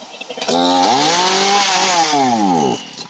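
A chainsaw roars into life and runs, its engine pitch rising and falling as the throttle is worked, loud and close, then cutting back toward the end.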